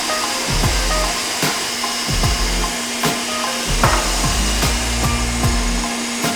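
Electric mixer at full speed whipping egg whites with sugar for meringue, a loud steady motor whir with repeated clattering knocks of the beaters against the bowl, no talking.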